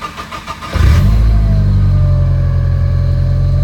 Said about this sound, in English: You see it idles just fine, starts up great, sounds fine, no issues.